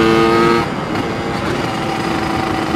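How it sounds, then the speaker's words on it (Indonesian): A carbureted motorcycle engine given a little throttle, starting with a brief higher rev that drops back to a steady, close, rough idle. "Ini udah enak kan, digas dikit aja."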